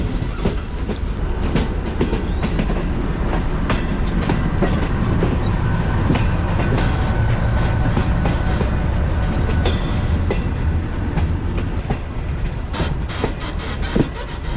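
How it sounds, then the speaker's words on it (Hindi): The Green Line Express passenger train runs on rails near Rawalpindi, loud and steady from onboard, with constant rumble and rhythmic clickety-clack of wheels over joints and occasional squeal, no talking. "तो काफ़ी शार्प कर्व लेते हुए हमारी ट्रेन मेन प्लेटफॉर्म पर जाकर लगेगी।"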